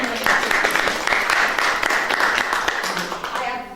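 Clapping from a workshop audience, a brief burst of many hands applauding for a few seconds, then thinning out as a voice begins.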